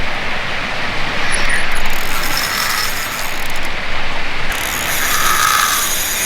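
Fishing reel spinning fast as line strips off during a hard fish run, a continuous loud ratcheting buzz with drag clicks rising and falling over several seconds.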